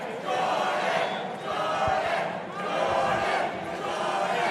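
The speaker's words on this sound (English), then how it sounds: "The crowd chanting Jordan." An arena crowd at a five-round MMA fight chants a fighter's name in loud, rhythmic swells that rise and fall about once a second, with no commentary over it.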